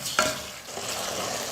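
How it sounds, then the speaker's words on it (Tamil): Mutton coated in ginger garlic paste sizzles in hot oil while being stirred, a short scrape of the spoon followed by a steady close sizzle. "ஒரு 5 நிமிஷம் எண்ணெயிலே வந்து மட்டன் நல்லா வேகணும்"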